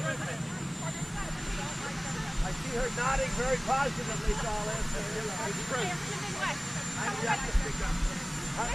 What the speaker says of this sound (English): you have a helicopter that's raging back there